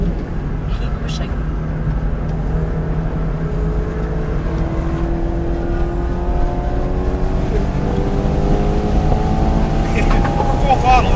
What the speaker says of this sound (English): We're full throttle, that's all we got.